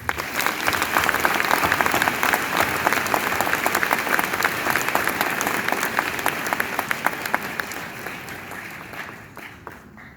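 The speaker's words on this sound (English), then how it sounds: "I wanted to give a big round of applause for these CNG superheroes" Sustained audience applause at a graduation ceremony honoring CNG supporters, a dense even roar of many hands clapping that holds steady for most of the stretch before tapering off near the end.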